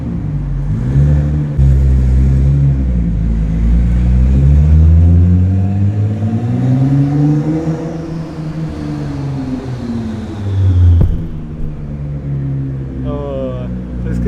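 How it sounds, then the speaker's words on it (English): Nissan GT-R idling and rolling through an enclosed parking garage, its deep engine drone rising and falling with turbo whine, loud and echoing, before cutting off abruptly near the end as a voice speaks briefly. "Oh, you can hear the turbo."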